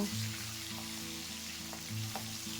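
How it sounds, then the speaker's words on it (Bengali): Aar fish, just turned over, keeps frying in hot oil: a brief, steady sizzle with a few faint pops beneath background music. "মাছ এক পিট ভাজা হয়ে গেছে এবার উল্টিয়ে দেব"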